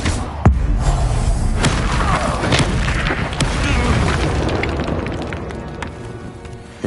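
Fire spell blasts in Hogwarts Legacy, a burst of loud booming impacts with a sharp crack near the start and further thuds over a crackling, roaring din, all fairly close and dense.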